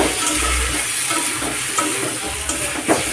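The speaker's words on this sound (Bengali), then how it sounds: "ভালো করে কষিয়ে নেব।" Vegetables sizzle in a hot pan as they are stirred and sautéed, with continuous close frying hiss and occasional scrapes of a utensil against the pan.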